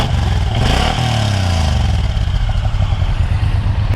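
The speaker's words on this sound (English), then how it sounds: "All right, so exhaust is pretty quiet right off the start. This is the stock exhaust on here." A 2018 Suzuki Boulevard M109R motorcycle on its stock exhaust: a close, loud, low, throbbing engine drone that rises and falls slightly in pitch as it revs, with steady mechanical clatter and no talk.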